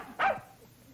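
A dog gives a single short, sharp bark, nearby and clear against a quiet background, with no talking.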